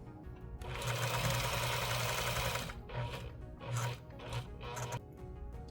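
A blindstitch sewing machine runs through fabric with a steady close mechanical whir and rapid stitching chatter, followed by shorter stop-and-start bursts.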